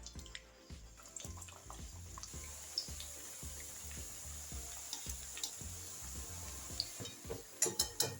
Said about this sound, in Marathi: तेल आता चांगलं तापलेलं आहे. आता आपण पटापट टाकायला सुरुवात करू.